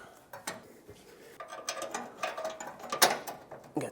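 Metallic clicks and clanks as a mounting bolt is worked through the lower rear corner of a 1996-2002 Toyota 4Runner rear bumper, irregular close taps and scrapes, fairly quiet.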